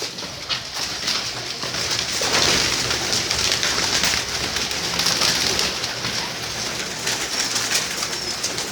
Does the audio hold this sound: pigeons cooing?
yes